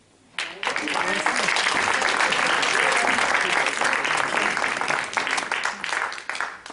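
An audience at a French evening veillée in Plouagat breaks into applause, starting abruptly and building into sustained dense clapping before thinning toward the end, with voices faintly mixed in.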